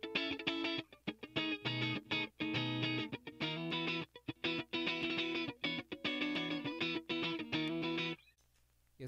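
Clean electric guitar through a transparent compressor pedal on a pedalboard, a busy run of strummed chords and plucked notes with even, leveled dynamics, then the ringing stops into near silence at the end.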